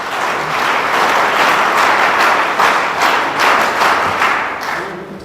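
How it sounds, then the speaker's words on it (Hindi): Vigorous applause from a seminar audience welcoming a guest, many hands clapping loudly and close with a few swelling pulses, easing slightly at the very end. "कृपया जोरदार तालियों से स्वागत कीजिए।"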